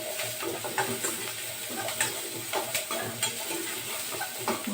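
Onions and four tomatoes sautéing in a pan for an intestine fry and curry, a continuous close sizzle with scraping stirs and occasional clatter of the utensil, no one talking.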